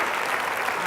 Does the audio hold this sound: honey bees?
no